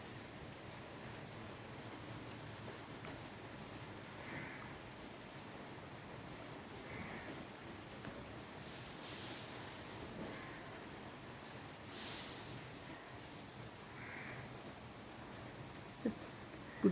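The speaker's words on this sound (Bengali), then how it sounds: "বুদবুদ করে বৃষ্টি হয়েই চলেছে বিজবিজ করে।" Steady morning rain falls on trees as a soft, even hiss, faint and continuous, with a few slightly louder patches of drips.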